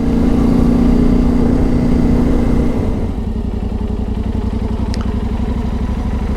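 An adventure motorcycle, just refuelled, pulls away with a steady engine drone that drops into a lower, pulsing mid-range rumble as it rides off, close and loud throughout.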